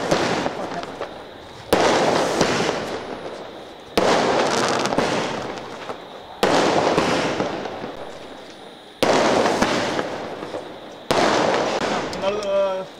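Firecrackers burst in a rapid, continuous crackling chain at a midnight birthday celebration for an MLA. Each run of bangs starts loud and fades, in about six bursts, with voices faintly in the background.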